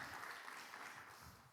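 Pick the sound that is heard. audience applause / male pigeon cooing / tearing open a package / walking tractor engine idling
audience applause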